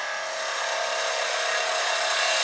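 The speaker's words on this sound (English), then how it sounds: "I start forming the outside of the goblet using the half inch ball gouge." Steady, continuous hiss of a half-inch ball gouge cutting the outside of a goblet from punky, spalted birch on a wood lathe, a close and even scraping rasp with no talking.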